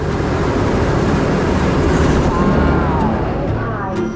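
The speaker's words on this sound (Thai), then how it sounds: "รอรถไฟ" A train at a rural station heading toward a waterfall stop, heard as a loud, close, continuous rumble of rolling rail cars with faint rhythmic clatter and metallic squeals.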